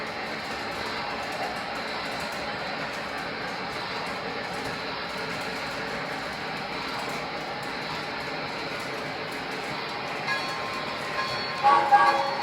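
A steady mechanical hum and rumble of a Lionel LionChief Big Boy model train running along the inside loop of its track continues evenly, with a few light clicks near the end.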